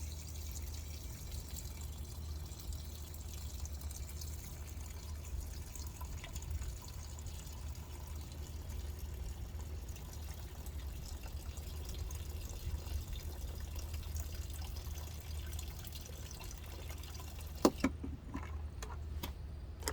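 Water runs steadily from a tap into a container for washing a small vegetable harvest, a faint continuous trickle with a low hum beneath, ending in a few clinks near the close.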